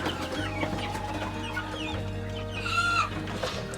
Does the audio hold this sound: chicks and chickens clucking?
yes